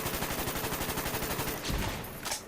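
Rapid automatic gunfire in Black Ops sprays a wall as a steady burst of fast, evenly spaced shots. A heavier impact or two follows near the end, with no voices.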